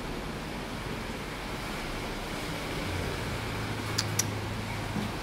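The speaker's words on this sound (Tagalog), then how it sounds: "Lakas na ng hangin." Steady, heavy wind roars continuously with a dense rushing texture, a low hum rising midway and a couple of brief sharp knocks near the end.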